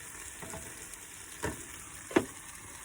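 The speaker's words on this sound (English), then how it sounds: "Put a little stir." Food frying in a pan for a cheap home-cooked dinner is stirred, with a steady low sizzle and a few short scraping strokes, the loudest near the end.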